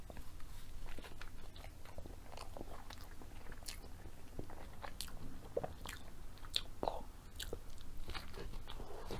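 Crunchy Taco Bell taco eaten close to the mic, with quiet, irregular crisp bites and chewing crunches over a soft background hiss, and no talking.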